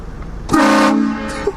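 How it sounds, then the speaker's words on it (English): Air horn blast from a prank: one loud, blaring horn note lasting under half a second over background noise, with a short faint toot following. "That's a loud horn, huh?"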